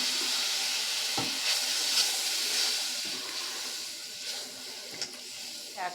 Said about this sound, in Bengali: সাদা সর্ষেটা দিয়ে আবারও একটু কষিয়ে নেব, আর আস্তাকে লো ফ্লেমে দিয়ে এটা করতে হবে।